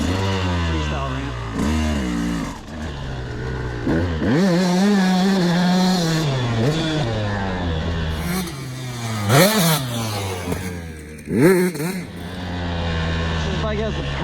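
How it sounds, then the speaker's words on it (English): A motorcycle ridden on an outdoor trail, its engine rising and falling through repeated revs and accelerations, loud and close with wind noise, while a rider talks over it. "This bike has the perfect roll-on power. Out of corners."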